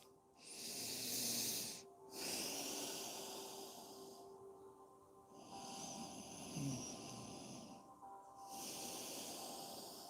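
Slow, deep breathing through the nose during a yoga session, several long airy inhales and exhales in a repeating rhythm, quiet and close with no talk.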